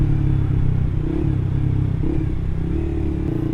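A Suzuki GSX R150 motorcycle fitted with an R9 Mugello aftermarket exhaust idles close by, a steady, loud, rumbling low burble that holds throughout with slight unevenness and no voices.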